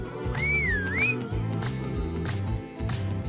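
A single sliding whistle rises and dips over background music with a steady beat, short and clear.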